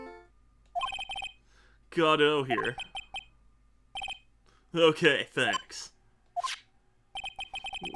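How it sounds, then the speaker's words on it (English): A ringing phone tone in the Phoenix Wright Trials and Tribulations video game: short repeated electronic rings in bursts, alternating with a voice speaking briefly. "What kind of ringtone is that?"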